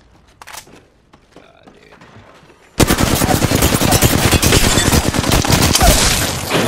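Enemy gunfire in the video game Apex Legends: after a quiet opening with faint clatter, loud rapid automatic bursts erupt and continue densely to the end, close and intense.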